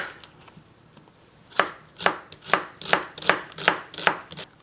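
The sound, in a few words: knife chopping onion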